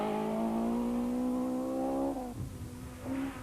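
Nissan race cars in the 1993 Tour De Total, engine note holding a steady high drone for about two seconds before dropping away, then rising again briefly, close and loud, no voices.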